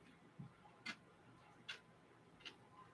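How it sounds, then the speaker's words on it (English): Puppies patter around a room, their claws making faint, sparse ticks on the floor, four soft clicks spaced irregularly over a quiet background. "if you hear a little tick, tick, ticking behind me, I have puppies"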